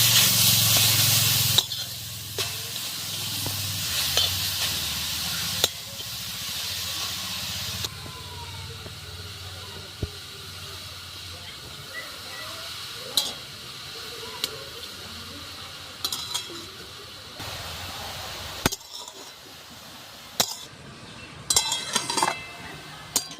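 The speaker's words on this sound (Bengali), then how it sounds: "তো গাজরটাকে আমি কিছুক্ষণ নাড়াচাড়া করে নেব।" Carrots fry in homemade ghee for gajar halwa while they are stirred, giving a soft sizzle under repeated spoon scrapes and clinks against the pan, close up, with a few louder knocks near the end.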